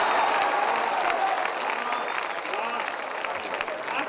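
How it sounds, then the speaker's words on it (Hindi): Audience applause at a live comedy event, a dense, steady wash of many hands clapping that fills the whole stretch evenly, loud and close, with a voice faintly audible underneath. "एक एक हाथ नहीं रुकना चाहिए ताली बजाए बिना"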